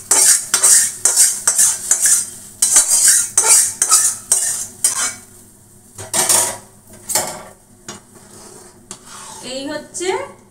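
A ginger tempering poured into cooked dal and stirred, rhythmic metal spoon scrapes and clinks against a pot with a burst of sizzling, then quieter stirring, close and loud.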